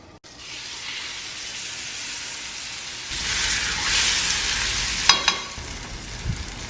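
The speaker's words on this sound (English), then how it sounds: "we're just gonna quickly sear the fish" Fish searing in a little butter in a hot pan: a steady broadband sizzle that swells louder partway through, with a few sharp pops and utensil clicks near the end, no talking.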